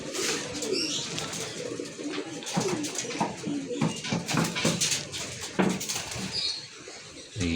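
Pigeons cooing around a loft landing board while birds fly in, with wing flaps and low coos mixed with background noise and occasional distant voices.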